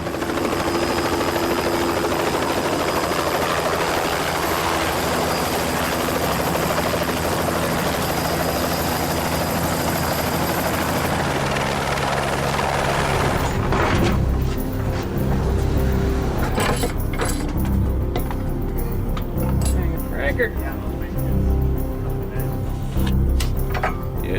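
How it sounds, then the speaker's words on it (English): A military helicopter flies in and lands at a base: a loud, steady rotor roar for the first half, then a shift to a heavier, choppier near thumping of blades and engine as it settles down, with no talking. "So the choppers are flying."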